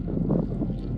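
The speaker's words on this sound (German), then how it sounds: "Und es ist ein bisschen windig" Gusty wind buffets the microphone in a low, continuous roar at the snowy Rosszahnscharte pass in the Dolomites, with no voices.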